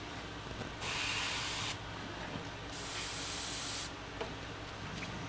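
An airbrush sprays paint onto a swimbait lure in a crappie pattern, heard as two sustained, close hissing bursts separated by quieter gaps.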